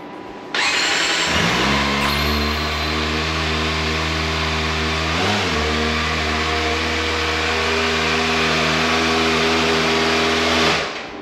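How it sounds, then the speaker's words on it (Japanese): A Kawasaki ZX-25R motorcycle engine cranks and catches, then settles into a loud, steady idle with a brief dip midway before cutting off; close and continuous, no talking. "ちょっと一回エンジンかけてみましょうか"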